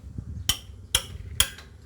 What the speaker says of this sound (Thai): ตอกเลยเด้อ